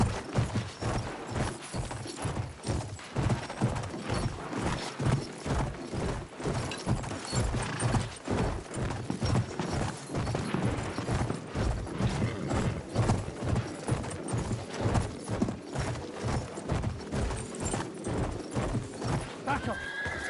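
Horse hooves clip-clop in Battlefield 1 in a fast, steady, evenly spaced beat that runs the whole time, close and prominent over battle ambience and game sounds.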